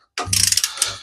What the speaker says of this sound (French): Changer de cliquet.